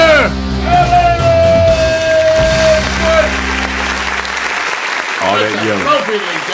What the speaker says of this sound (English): All that yelling and nobody's yelling.